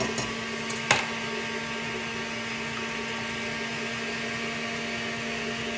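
An electric mixer whirs steadily through low carb bread batter in a home kitchen, a constant motor hum with a couple of brief knocks near the start.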